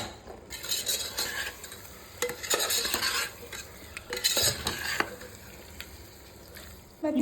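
A spoon stirs curry with garam masala in a pan, scraping and clinking in uneven strokes against the metal over a faint sizzle, close up.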